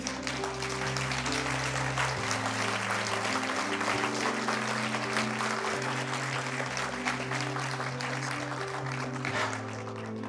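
A church congregation claps as an offering of praise, a sustained wash of dense applause over steady sustained organ or keyboard chords with shifting bass notes, alone without talk.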